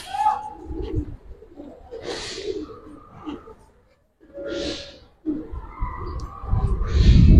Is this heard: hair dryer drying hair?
no